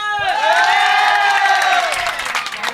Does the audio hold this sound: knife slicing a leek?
no